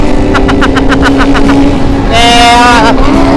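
A Kawasaki ZX25R motorcycle engine revs in short rhythmic bursts, then rises into one long, loud, high-pitched scream close by, with people talking nearby.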